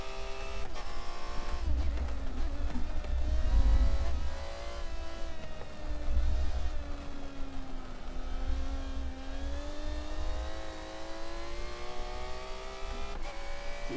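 An Aston Martin race car engine in the Forza 7 racing video game, a steady revving drone with pitch climbing and dropping through gear changes and occasional low thumps underneath.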